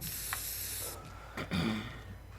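Spray painting in the video game inFAMOUS: Second Son: a continuous hissing aerosol spray that cuts off, followed by softer hisses and a brief low thump under game ambience.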